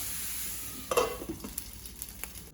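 Cabbage thoran being stirred in a pan, with a soft sizzle under scattered scraping and clinking of the spoon that starts after a quiet opening.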